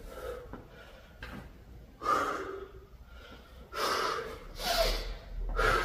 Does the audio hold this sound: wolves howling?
no